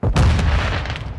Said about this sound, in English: My flash grenade!